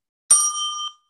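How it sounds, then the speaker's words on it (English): A single bright bell ding marks a timing signal during a book competition, one clear ring that sustains briefly and stops cleanly in quiet. "ding the bell."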